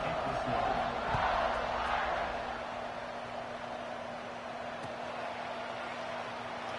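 An American football stadium crowd roars at kickoff, a broad wash of cheering from a large distant mass of fans, swelling early and then settling into a steady murmur.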